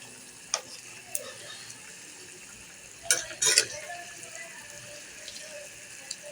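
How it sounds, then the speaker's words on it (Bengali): Food with a little sugar is stirred in a frying pan: a faint background sizzle with a few sharp scrapes and clinks of a spatula, one brief cluster of louder knocks near the middle. "এখন এটাকে একটু নেড়ে চেড়ে দেবো"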